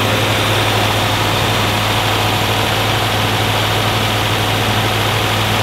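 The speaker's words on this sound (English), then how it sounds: "idle speed's increasing, isn't it?" A Series 1 Rover P6 Estate engine idling, a loud, steady, close low rumble with a constant vibrating hum and no pauses.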